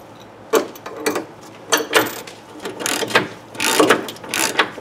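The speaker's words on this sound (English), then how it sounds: "we're just gonna tighten down these bolts now, all six of them" A hand ratchet clicks in short bursts while tightening engine bolts during a third-generation Camaro build, close and fairly loud, with pauses between each run of rapid pawl clicks.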